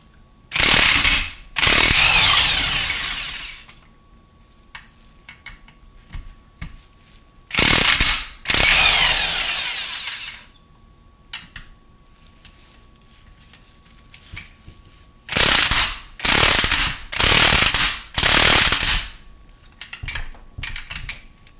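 Ratchet wrench loosening 14mm bolts on the transmission case of a 2002 Honda Odyssey automatic, in several separate bursts of rapid clicking close up, with quiet gaps between them.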